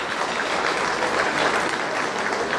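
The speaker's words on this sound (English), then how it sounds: "Please give her a round of applause." A large audience at a Jamaica 60 Diamond Jubilee gala applauds, dense and loud clapping sustained without a break.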